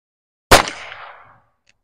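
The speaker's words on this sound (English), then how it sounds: "22 long rifle out of a uh, Heritage Rough Rider 22" A single sharp .22 LR shot from a Heritage Rough Rider revolver at an outdoor range, loud and close, with a short decaying echo trailing off in about a second.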